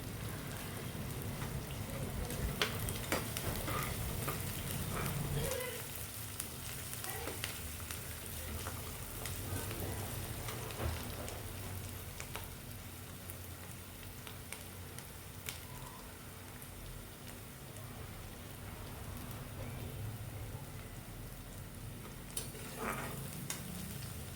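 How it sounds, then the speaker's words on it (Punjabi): Onions and green chillies frying in a pan while being stirred until light brown, a soft steady sizzle with occasional scraping stirs, faint and close, with no talking. "ਇਸ ਨੂੰ ਆਪਾਂ ਚੰਗੀ ਤਰ੍ਹਾਂ ਹਿਲਾਵਾਂਗੇ ਤੇ ਆਪਾਂ ਇਹਨਾਂ ਪਿਆਜ਼ਾਂ ਨੂੰ ਹਲਕਾ ਬਰਾਊਨ ਹੋਣ ਤੱਕ ਭੁੰਨਾਂਗੇ"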